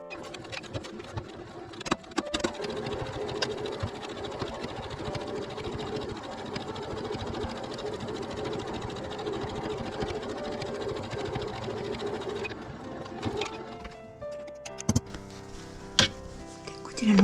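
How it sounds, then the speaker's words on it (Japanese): A sewing machine stitches down the pieces of a patchwork hexagon tote bag, a steady mechanical whir running for most of the stretch, with a few sharp clicks and taps near the start and end. "それでこことここに押さえのミシンを縫います。"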